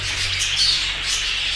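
Newly hatched baby birds in a nest give a steady, continuous high-pitched squawking and cheeping chorus, fairly close and moderately loud, with no talking.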